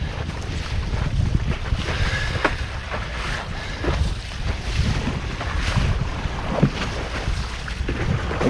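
Strong, steady wind blows outdoors by a boat at sea, buffeting the microphone in a continuous rushing roar with faint water wash beneath and no voices.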